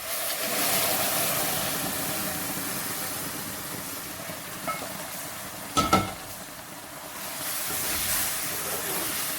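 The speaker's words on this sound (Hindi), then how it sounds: "ये मैं अपना शीरा डाल देती हूँ इसमें" Sugar syrup sizzling and bubbling as it is poured into frying semolina halwa in a pan, a steady hissing sizzle that swells and fades, broken by a brief clatter.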